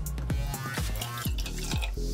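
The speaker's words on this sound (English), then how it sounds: "mix a teaspoon of borax with half a cup of water" Water and borax stirred together in a container for slime, giving a run of distinct liquid plops and drips about every quarter second, close and clear, with faint stirring noise between them.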